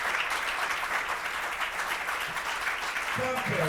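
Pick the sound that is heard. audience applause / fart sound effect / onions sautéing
audience applause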